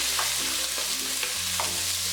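A medium-sized onion sautéing in hot oil in a pan for chilli salan, a steady close sizzle with occasional stirring scrapes and no voices.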